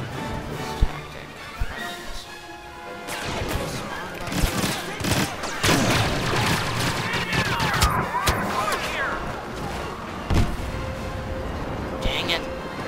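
Blaster fire in the Star Wars Battlefront video game, with dense, overlapping rapid shots and bursts that continue steadily throughout alongside other battle noise.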